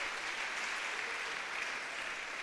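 A church congregation applauds during a sermon, a dense, steady wash of many hands clapping at even loudness throughout, with no voices rising above it.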